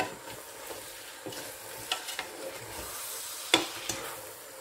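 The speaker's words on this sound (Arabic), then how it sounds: "كتشوفوا راه تقلى" Chopped onions fry for chicken biryani, sizzling steadily in a pan while a utensil scrapes and stirs them in repeated clicks and knocks, close and fairly quiet with no talking.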